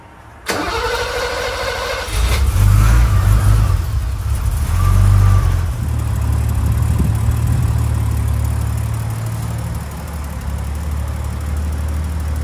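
A BMW E28 engine fitted with a new Holset HE341 turbo makes its first start: a brief crank, then it catches and settles into a loud, steady, rumbling idle close by.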